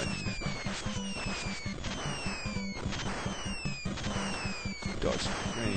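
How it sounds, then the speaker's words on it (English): Grenades explode amid the synthesized chiptune music of the NES game Contra, sharp electronic bursts popping repeatedly over descending tones and a driving bass line, all fairly loud and continuous. "Dodge the grenades again."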